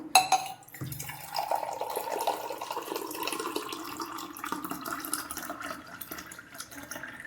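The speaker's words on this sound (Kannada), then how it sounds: "ಸೊ 2 ಗ್ಲಾಸ್ನ ನೀರು ಹಾಕ್ಕೊತಾ ಇರೋದು." Two glasses of water go into rice for cooking, a quiet, close pour with a gurgling trickle and light splashes after a brief clink at the start, no voices.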